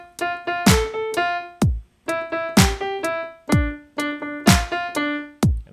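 Piano playing a song alongside drums, with chords landing in a steady, punchy rhythm with short gaps between phrases, close and clear with no talking.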